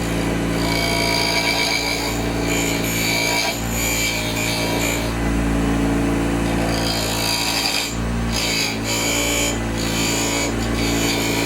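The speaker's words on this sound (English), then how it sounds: "Using my Easy Wood Tools 1/8 inch parting tool, you want to make sure you address it square to the radius." A 1/8 inch Easy Wood Tools parting tool cuts into spinning wood on a lathe while shaping a barrel, giving a loud, continuous rasping scrape over the motor's steady hum, with brief pauses and no talk.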